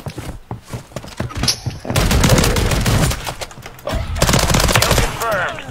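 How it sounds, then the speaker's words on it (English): Rapid bursts of video game gunfire, loud and close, crackle in dense volleys with brief gaps, while a player's voice talks over parts of the shooting. "I'm getting shot at"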